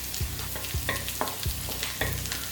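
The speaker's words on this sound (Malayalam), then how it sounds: "എണ്ണയിൽ വെളുത്തുള്ളി ഇട്ട് മൂപ്പിച്ചെടുക്കണം" Garlic sizzles in hot oil over a high flame while a spoon stirs it, giving a steady frying crackle broken by several distinct scraping strokes against the pan.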